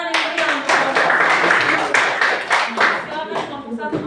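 A classroom group claps together after a presentation, dense and fairly loud, lasting several seconds and with voices mixed in underneath.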